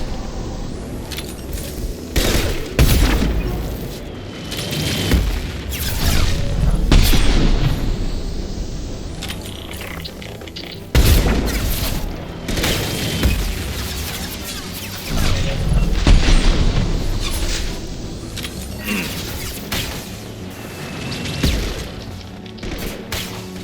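Grenade explosion in Mass Effect 2 combat amid heavy gunfire: several deep booms and blasts recur over about twenty seconds beneath continuous shooting and crashes, with occasional shouted callouts.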